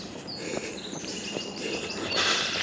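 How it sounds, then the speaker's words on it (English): Faint high chirps from birds scattered over a soft outdoor hiss, intermittent and distant. "I can hear birds chirping,"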